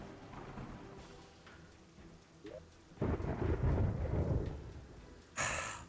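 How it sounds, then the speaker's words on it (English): In the video game Terraria, a rainstorm hisses steadily while thunder rumbles loudly and fairly close about midway through, followed by a sharper crack near the end. "Why we gotta have a rainstorm tonight of all nights?"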